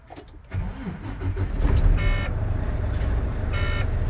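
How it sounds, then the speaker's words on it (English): A truck engine cranks and fires up inside the cab during an air brake test, settling into a steady low idle rumble with faint beeps in the background. "So I'll foot on the brake, start the truck."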